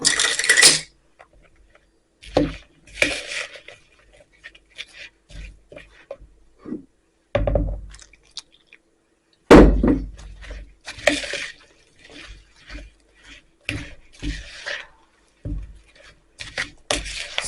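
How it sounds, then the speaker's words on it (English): A flour and milk batter stirred in a bowl, with bursts of clinking and scraping separated by pauses, close and moderately loud. "Stir it all up and make this batter."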